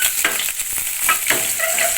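Pieces of katla fish lightly frying in hot oil, a dense, close, continuous sizzle with occasional stirring scrapes and no talk.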